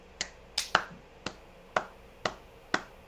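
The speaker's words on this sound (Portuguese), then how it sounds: "Palminhas pra sincronizar." Seven sharp, separate hand claps made to sync a video recording, spaced unevenly over about three seconds, close to the microphone and otherwise quiet.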